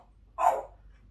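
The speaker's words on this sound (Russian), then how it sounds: "Собачка." A single short dog bark, fairly close and clear, with quiet room background before and after.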